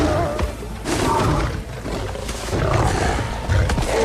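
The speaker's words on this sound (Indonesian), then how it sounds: "Dan akhirnya bos singa punya wilayah turun tangan menyerang singa itu." Lions in a film roar and fight at close range, loud snarling and growling bursts with heavy thumps from the struggle.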